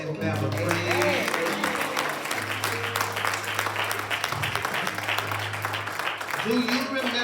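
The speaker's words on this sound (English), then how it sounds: "give God a hand clap of praise." A church congregation clapping hands in praise during a Sunday service, a steady, dense round of applause filling the room with voices and a sustained organ tone beneath.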